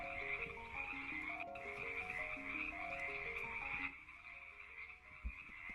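A frog croaks in a video game as a repeated low, rattling call over a constant tonal game backdrop, moderately loud and steady, with no speech.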